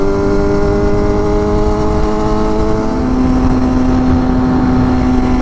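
A Kawasaki ZX6R 636 motorcycle with a straight pipe exhaust drones loudly and steadily while cruising, a constant buzzing engine note that shifts pitch slightly midway, with no talk over it.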